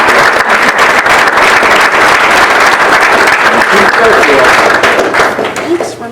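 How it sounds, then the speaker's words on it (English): Loud, sustained applause fills a hall during a 2022 Piqua athletics Hall of Fame induction, many people clapping in a dense continuous roar that tapers off slightly near the end. "another round of applause"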